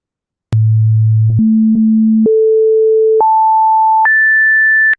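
Five pure sine tones of the note A climb one octave at a time, each held roughly a second, from a low hum up to a high whistle-like pitch; steady, loud and alone, with no voices.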